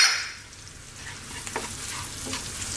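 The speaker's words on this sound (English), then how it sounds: "we're going to throw this around in the pan above medium heat for 2 to 3 minutes" Chopped onions, plenty of garlic and cumin powder sizzle steadily in a pan over medium-high heat, with light scraping and stirring clatter from the spatula running throughout.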